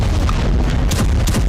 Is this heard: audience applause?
no